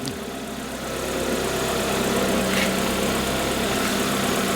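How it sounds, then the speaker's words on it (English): A steady, unbroken mechanical whine and hum from a Proton Wira's fuel pump, heard up close under a constant engine-like drone that holds level throughout without pauses. "That's the fuel pump making a noise."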